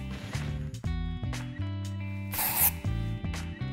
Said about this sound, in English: Adding a little bit more of the spray.